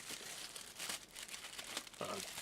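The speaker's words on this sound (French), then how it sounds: "Un petit sac plastique." Plastic bag crinkling close up while a Paladone Star Wars Stormtrooper night lamp is unboxed, several quick rustling bursts with brief pauses, fairly quiet.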